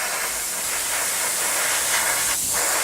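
An airbrush sprays paint onto a Tamiya 1/48 Spitfire model kit in a close, steady, loud hiss that runs without a break, with no speech.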